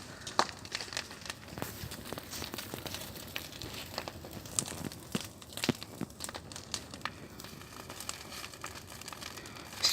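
Bonfire of leaves and sawn branches burning outdoors at the end of a day on a building site, giving steady close crackling with sharp pops and snaps throughout.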